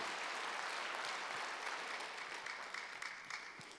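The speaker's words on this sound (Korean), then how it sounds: "박수를 하세요" Church congregation at a Wednesday worship service applauding together, a dense, steady wash of clapping that fills the clip and tapers slightly toward the end.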